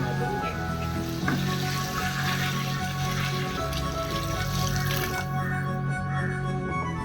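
Steady bubbling and sizzling of salted water boiling in a pot for chicken biryani, continuous and close, with faint tonal music running underneath.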